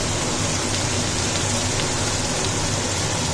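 Fish pieces frying in a pan in a home kitchen, a steady, dense hiss and crackle of hot oil that runs without break and without any talk.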